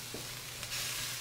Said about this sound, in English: the secret to wok frying is always moving